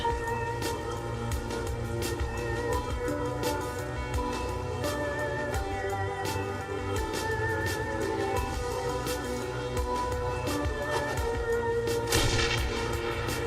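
Grenade explosions and gunfire in Shadowrun: Hong Kong, a dense continuous barrage of booms and sharp cracks over a loud rumbling bed, with a heavier burst near the end.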